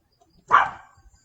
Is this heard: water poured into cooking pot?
no